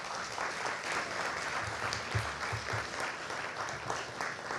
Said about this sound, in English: please come give him a round of applause.